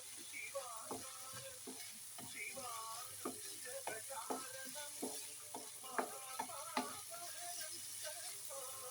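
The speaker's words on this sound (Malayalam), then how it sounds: "ഇനി നമുക്ക് ഇതിൻ്റെ കൂടെ ബീൻസ് വേവിച്ച് വെച്ചത് ഇടാം." Cooked beans tip into a hot pan and are stirred, giving a steady background sizzle broken by frequent short scraping and clinking taps of the spoon against the pan, close and moderately loud. A voice is faintly audible underneath.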